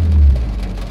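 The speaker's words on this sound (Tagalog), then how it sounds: "malakas ulan. Yung traffic, grabe rin lakas ng ulan. Ayan, nagkulog na." Heavy rain pours down in a busy street with traffic near UP during a storm, a loud, thick wash of water noise, with a deep low rumble of thunder swelling early and fading.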